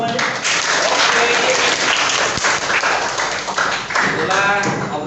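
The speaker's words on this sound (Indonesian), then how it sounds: "Anak-anak tepuk tangan semuanya" Classroom of eighth-grade students clapping together, loud and close, a dense patter of hands with a few sharp taps, while voices chatter over it.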